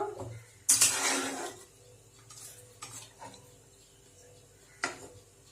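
Pressure-cooked mutton for mutton kosha is tipped into a wok, with a sudden loud clatter of utensils and scraping, then softer stirring knocks and a few scattered clinks. No one speaks.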